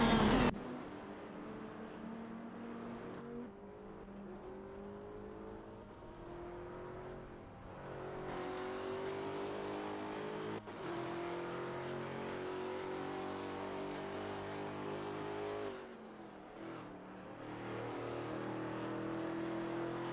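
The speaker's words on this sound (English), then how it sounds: "The battle heats up between John 7 in the Maytech Ford GT Dantuan and Butcher 0 in the BMW M3E92 GT2" Race cars in a video game, a Ford GT and a BMW M3 E92 GT2, scream past with sustained high engine revs, gear shifts and rising, falling pitch as they battle closely on track.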